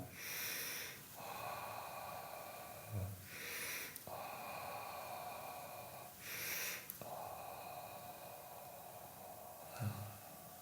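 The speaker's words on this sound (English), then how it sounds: "Inhale up now, exhale down." Slow guided breathing: four audible breaths, each a soft rushing inhale or exhale, spaced a few seconds apart and close up, over a steady ambient drone.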